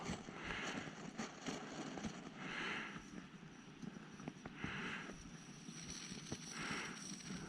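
An MSR Whisperlite liquid-fuel camping stove roars softly as its fuel is slowly opened, a low breathy rush that swells and fades in several puffs while it catches, set against outdoor background noise with no talk.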